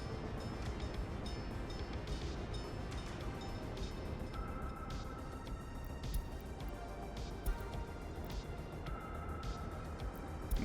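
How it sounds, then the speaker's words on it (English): A locomotive in a Siberian train video game runs steadily, a continuous rolling rumble with rail clatter and faint clicks, and a brief whistle-like tone sounds midway. "we will run the locomotive consistently for now"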